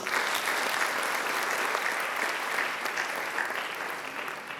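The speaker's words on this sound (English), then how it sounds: "A big round of applause, please." Steady, dense applause from a large crowd at a school graduation ceremony for the graduating class, loud and even throughout without pause.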